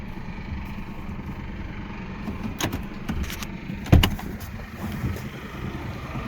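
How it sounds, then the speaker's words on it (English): A truck door opens and thumps shut as the driver climbs out at a feed mill scale. A short metallic clunk stands out near the middle over a low, steady idling hum, with lighter clicks around it. "And now I'll get out of the truck."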